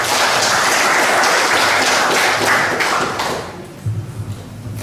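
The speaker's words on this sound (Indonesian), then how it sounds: "Tepuk tangan untuk kau bisa." A crowd claps loudly and steadily for a few seconds, then the applause thins out and fades, with a few scattered thumps near the end.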